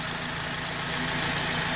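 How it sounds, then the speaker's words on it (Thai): A 2004 Honda Civic 2.0 with 240,000 km idles steadily at 1000 rpm, a constant low rumbling hum that holds an even pitch throughout, with no voices. "ฟังเสียงเครื่องยนต์นะครับ เดินที่พันรอบดูครับ"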